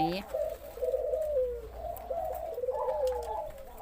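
A spotted dove gives a series of soft, low, rhythmic coos close by, repeated in short phrases over a quiet background.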